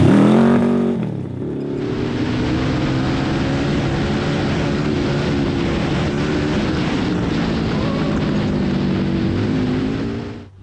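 Little Tikes go kart speeding along a loose gravel road, its engine droning loud and steady for several seconds after a quick start, with heavy wind buffeting throughout.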